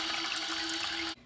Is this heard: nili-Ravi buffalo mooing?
no